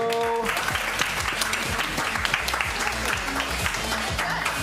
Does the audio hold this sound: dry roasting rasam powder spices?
no